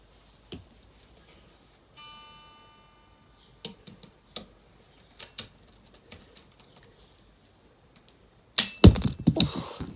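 A clip-on guitar tuner is clicked on, giving a few small, sharp clicks spread out over quiet, a brief faint electronic tone, then a burst of louder handling noise near the end.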